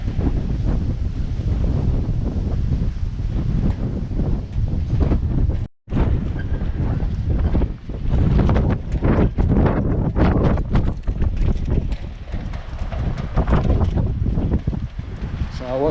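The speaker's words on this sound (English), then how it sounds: "if you're in an exposed place, you can feel that wind blowing." Strong gusty wind buffets the microphone on an exposed stretch of coast at Magaluf, a loud continuous roar with a brief drop partway through.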